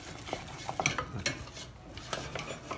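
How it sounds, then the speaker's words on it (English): Choux pastry dough beaten and stirred in a pan over low heat, close thick scrapes and soft knocks of the spoon coming in irregular bursts over a quiet background. "Keep stirring it on the low-ish heat for a half a minute or so"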